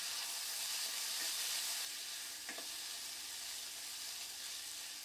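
Onions and chopped tomatoes fry in a pan for a roadside-style parotta kurma, giving a steady, close hiss of sizzling that softens a little partway through, with faint stirring taps.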